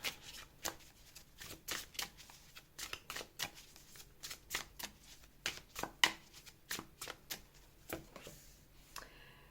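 Tarot cards are shuffled and dealt out in a quiet run of soft riffling flicks and snaps, irregular and close, with no speech over them.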